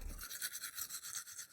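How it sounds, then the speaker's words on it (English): Toothbrush scrubbing from the video game Where Winter Crows Go, a steady rhythmic bristly brushing that pulses back and forth at close range for a short moment, heard alone without talk. "And we get the toothbrush."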